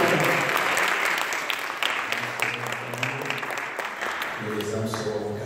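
Congregation applauding during a French church service, continuous clapping throughout while a preacher speaks over it.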